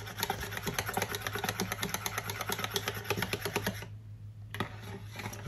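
A whisk beats homemade vanilla cheesecake batter in a bowl, making a fast, steady clatter of rapid clicks that pauses briefly near the end and then resumes.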